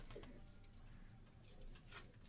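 Pigeons coo softly on a Karachi rooftop loft, low murmuring calls scattered through a faint outdoor background with occasional light rustles, no voices.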